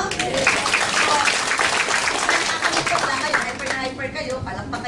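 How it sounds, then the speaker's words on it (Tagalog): An audience at a distributors' orientation claps steadily in a dense, continuous patter, while voices carry on over the applause. "Kayo, palakpak kayo ng palakpak"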